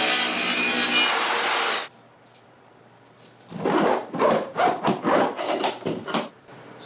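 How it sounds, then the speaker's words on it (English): A handsaw cuts a wooden board in a workshop, starting with a steady grinding stretch that stops abruptly, followed by a run of distinct back-and-forth saw strokes, close and fairly loud, with no voices. "I'm just going to cut the board off and domino it in"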